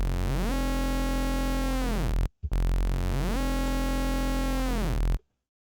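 Neurofunk synth bass made in Serum, its second oscillator's sync position swept by an LFO, two loud sustained buzzing notes with a rising, moving tone, separated by a short gap and ending abruptly.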